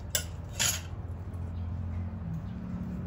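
Okra being stirred in a cooking pot for a Filipino ginataang dish: two brief metallic clinks of a utensil against the pot near the start, then a steady low cooking hum with faint scraping, and no talking.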